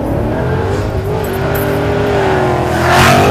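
A Vortech V-3 supercharged 2011-on Mustang GT 5.0 accelerates, the engine note climbing steadily in pitch with a rising supercharger whine, loud and close, with no talking.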